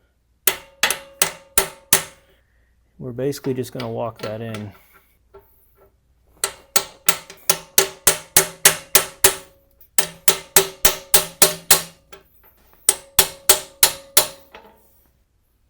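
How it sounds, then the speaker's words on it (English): A tiny hammer taps a metal seal driver in quick ringing runs of blows, seating a Jeep inner axle seal, pausing between bursts, while someone speaks briefly in between. "I'm going to take that race driver and just kind of tap that so we can seat that seal more"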